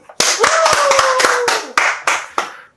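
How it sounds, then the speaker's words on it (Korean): A few people clapping at close range, a burst of quick claps followed by several slower, separate claps, with a faint sustained tone running underneath. "드디어 당첨자가 나왔습니다. 박수!"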